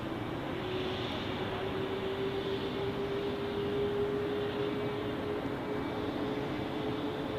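A Korean Air airliner taxiing at Zurich Airport produces a sustained jet engine roar with a steady whining tone running through it, moderately close and continuous, no voices.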